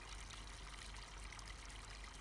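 Steady trickling water fills a barrel on a farm in Farming Simulator 22, a continuous close pouring stream with no pauses.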